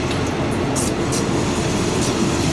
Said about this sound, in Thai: ขบวนธรรมดาที่ 262 นะครับ หัวหินกรุงเทพนะฮะ เข้าจอดที่สถานีรถไฟ